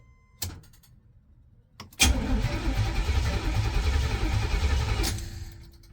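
An old car engine cranks over with a steady churning whir for about three seconds after a couple of clicks, then stops without catching.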